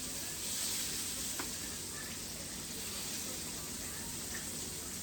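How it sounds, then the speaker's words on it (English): Chicken pieces frying in hot oil give a steady, even sizzle and crackle that stays at one level throughout, fairly quiet, with no talk over it. "Just showing y'all the chicken frying there"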